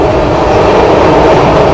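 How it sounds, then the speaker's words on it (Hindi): The Sealdah New Delhi Rajdhani Express, train 12313, running at speed, heard as a loud, continuous roar of wheels and rushing air from inside the coach, with no talking. "राजधानी एक्सप्रेस भाई, रफ्तार चेक करिए भाई"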